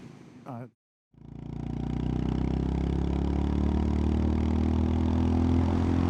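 A 2025 Honda GB350S, a long-stroke single-cylinder motorcycle, runs close by. After a brief voice and a moment of silence, the engine's deep, steady thumping drone rises and holds loud to the end.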